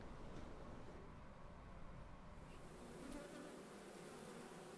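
Honey bees buzz around a hive, a dense steady hum of many insects close by, continuous and fairly quiet, with no talking.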